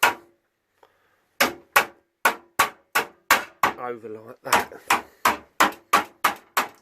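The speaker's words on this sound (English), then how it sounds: "the little lip bits, I'm going to hammer them" Sharp hammer blows on the metal lip of an MTD Lawnflite 904 mower cutting deck, about fifteen evenly spaced strikes, loud and close, with a short pause for a few spoken words midway.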